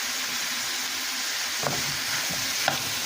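Pork and onion sizzle in a pan on a stove, a steady loud frying hiss throughout with a couple of light stirring clicks from a utensil against the pan.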